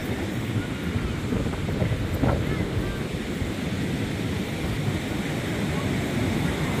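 Steady rumbling surf with gusty wind buffeting the microphone, a continuous wash of ocean waves breaking nearby.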